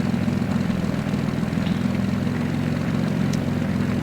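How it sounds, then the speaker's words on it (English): A steady, loud drone from the simulated piston engine and propeller of a SIAI-Marchetti SF260D in the X-Plane 11 flight simulator holds an even, buzzing rumble with no speech over it. "So you record the real sound of the plane?"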